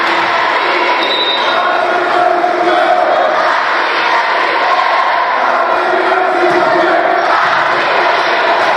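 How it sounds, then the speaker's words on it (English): A high school student section cheers and chants loudly at a girls volleyball sectional final, a dense, sustained roar of crowd voices filling the gym throughout with no pause. "The student section cheering very loudly for our girls as they do the I Believe That We Will Win cheer"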